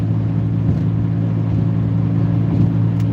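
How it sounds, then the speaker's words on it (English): A car cruising at about 75 to 77 miles an hour on a highway in heavy traffic, with a steady loud engine and road drone heard from inside the cabin. "It's a lot of heavy traffic."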